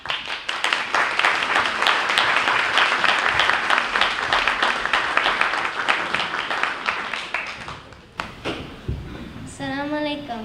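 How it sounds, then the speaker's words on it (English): A community audience at a Ramadan program greets a student reciter with loud, steady applause that tapers off, followed by a voice beginning to speak. "Let's greet her with a round of applause"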